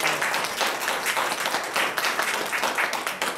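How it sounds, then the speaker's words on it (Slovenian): Warm applause from the audience at a women's committee evening discussion, continuous lively clapping throughout, fairly close and loud with no talking over it. "En aplavz, prosim."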